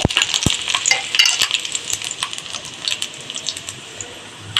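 Dried red chillies fry in hot coconut oil with mustard seeds for a curry tempering, giving a steady close sizzle dotted with small crackles and a few stirring clicks.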